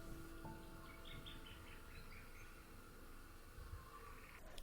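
Several birds chirp and sing intermittently around a garden bird bath, faint and somewhat distant over a steady outdoor background hiss, with no one speaking.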